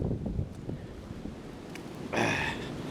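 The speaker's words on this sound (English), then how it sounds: "It is windy." Strong wind rushes outdoors in snowy, slushy weather, a steady roar of buffeting noise that swells into a harsher gust near the end.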